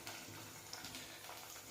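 Onions fry in a pan on a home stove for a beetroot fry, a faint, steady crackling sizzle that runs through the whole short stretch with no voices.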